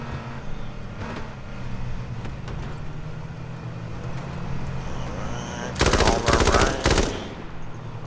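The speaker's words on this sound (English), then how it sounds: "The LMG and the AK will make enough noise to at least scare off some people." LMG and AK machine gun fire in the video game H1Z1 crackles in two short, loud, rapid bursts near the end, over a steady low background rumble.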